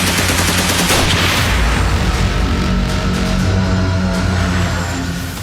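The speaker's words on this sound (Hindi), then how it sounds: "कुपवाड़ा का हाजी नाका जंगल गोलियों की तड़तड़ाहट से थर्रा रहा था" Automatic gunfire in a dramatized forest battle in the Haji Naka forest of Kupwara rattles loud and dense, with continuous overlapping bursts and booms for several seconds that ease off slightly at the end.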